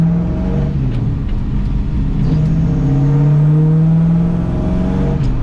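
A 1978 Pontiac Trans Am V8 accelerating on the road, a loud, close engine drone rising steadily in pitch and holding under load with no talking.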